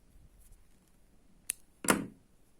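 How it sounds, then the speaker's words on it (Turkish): Scissors cut crochet thread in two quick, crisp snips close by, the second slightly louder, against an otherwise near-silent background. "burada ipimi kesiyorum"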